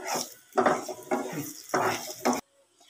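Raisins and cashews fry briefly in ghee, a metal spoon scraping and clinking against the pan in four rhythmic stirring strokes over a soft sizzle, then stopping abruptly.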